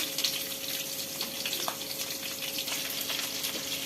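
Curry leaves and onion fry in hot oil with mustard seeds, giving a continuous close, bright sizzle with a few small pops and crackles throughout, with no one talking.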